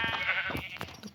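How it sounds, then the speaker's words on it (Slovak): A sheep in the Minecraft video game bleats in a short, wavering call, close and clear, with no talk over it. "Tupa ovca chodí."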